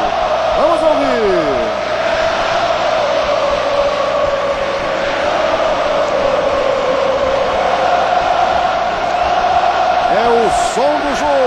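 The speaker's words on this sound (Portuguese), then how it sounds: "E a torcida do Flamengo canta no Maracanã." Flamengo supporters singing in unison inside the Maracanã stadium during a 2009 Brasileiro match against Coritiba, a loud, sustained crowd chant with a broadcast commentator's voice over it.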